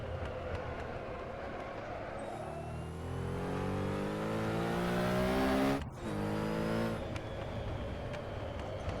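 A race car engine in a driving game revs up through rising gears, the pitch climbing and dropping at each shift, with a sharp cut near the six-second mark before pulling again.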